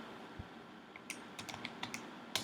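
Several quiet, separate taps on calculator keys as numbers go in for a trigonometry problem. The presses come irregularly over a soft hiss, with a slightly louder cluster of taps at the end.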